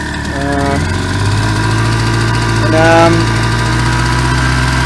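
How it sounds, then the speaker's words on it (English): A backup generator engine runs steadily at close range, a loud, even idle with a throbbing low hum and a brief rise in pitch near the middle, with a faulty stop switch and a poorly set carburetor. "this is a backup generator"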